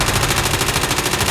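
Rapid, continuous automatic gunfire from an air strike in a video game, a steady rattling burst at close range that fills the moment with no pauses and no talk.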